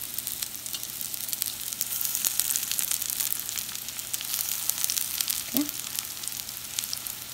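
Potato lollipops fry in a little oil in a pan, giving a steady, close sizzle with crackling pops and one brief scrape partway through.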